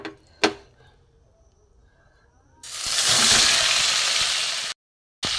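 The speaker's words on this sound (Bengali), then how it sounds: "মাছের তেল মোটামুটি ভাজা হয়ে গেছে" Fish fat dropped into hot oil in a pan for a Bengali fish-oil curry, bursting into a loud, steady sizzling hiss that holds for about two seconds, then cuts off abruptly and returns, after a sharp clunk and quiet kitchen noise.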